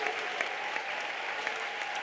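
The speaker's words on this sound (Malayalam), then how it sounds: "കൈയടിച്ച് ഉറക്കെ സ്തോത്രം പറ." A church congregation claps together at a Sunday service at IPC Prayer Centre in Thiruvalla, with steady, dense applause filling the hall and no pauses.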